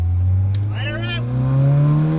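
A 1977 MG Midget engine revs up, its pitch rising steadily over a couple of seconds, loud and close, with a brief voice over the start.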